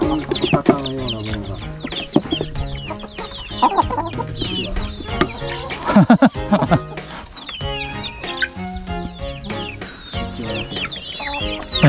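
Hens and chicks out on a walk cluck and chirp close by, a busy, overlapping stream of short calls with a few louder squawks throughout.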